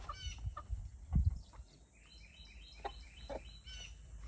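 A broody hen clucks in soft, irregular bursts with a few sharper calls and chirps, close by over quiet background rustling.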